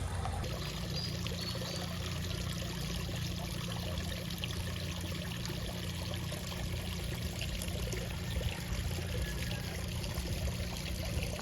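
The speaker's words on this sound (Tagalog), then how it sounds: "narinig mo yung tunog ng agos ng tubig," Water flows and trickles in a steady, constant rush, fairly close, in a garden with a koi pond on Dalupiri Island, Northern Samar, with no voices.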